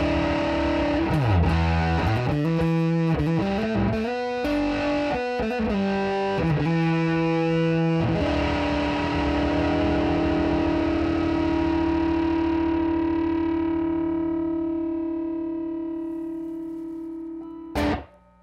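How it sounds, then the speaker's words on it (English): A Sofa Car Effects Pomade fuzz box pedal shapes an electric guitar into thick, distorted fuzz tones. Chopped, rhythmic notes give way to a long sustained chord that slowly decays, ending in a short burst. "there's a lot of fuzz tones on tap, but even at lower fuzz volumes, it actually gives a nice fuzzy overdrive feel"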